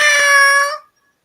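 A person imitates a cat's meow with one loud, drawn-out nasal call that cuts off abruptly into silence.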